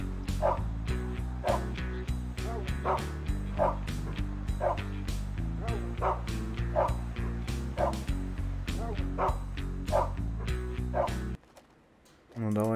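A dog barks repeatedly from its kennel in the Russian adventure game Петька и Василий Иванович 2: Судный день, with rhythmic yips over steady game music, then the sound drops away near the end.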